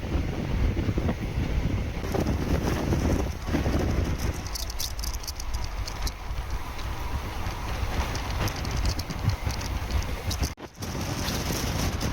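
Mangalore–Chennai Egmore Express passenger train running from Mangalore Central toward Tambaram, a loud continuous rumble with rattling wheels and heavy wind buffeting the microphone, briefly dipping near the end.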